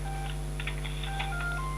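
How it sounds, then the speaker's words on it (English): Telephone tones from a call in the background, a series of faint beeps and dial tones over a steady electrical hum, with no talking. "You got a phone call going in the background."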